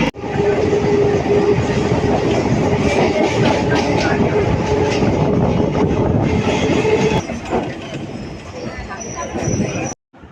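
A train running on the suburban line out of Dum Dum Junction toward Taki rumbles and rattles loudly and steadily on the tracks, then eases slightly near the end and cuts off abruptly.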